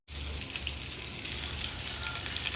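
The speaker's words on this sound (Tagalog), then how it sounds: "nagpiprito ako ng saging" Bananas fry in hot oil, giving a steady, soft crackling sizzle that runs unbroken throughout.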